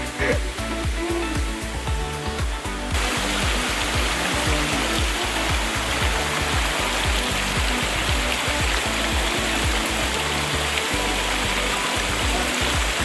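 A waterfall and stream on Mt. Igatmon pour steadily in a loud, continuous rushing roar that fills the scene throughout, with no voices.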